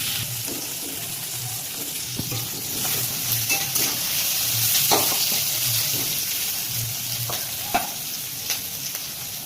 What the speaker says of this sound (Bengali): পেঁয়াজটা একটু লাল লাল করে একটু ভেজে নেবো, বেরেস্তা বানিয়ে নেবো।